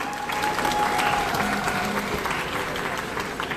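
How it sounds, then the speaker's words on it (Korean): Applause from an audience for the Gwangju Oberland Yodel Club after their performance: sustained crowd clapping, moderately loud and even throughout, with a faint voice briefly audible underneath. "광주 오버란트 요델 클럽에게 다시 한번 큰 박수 부탁드립니다"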